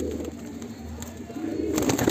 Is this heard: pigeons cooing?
yes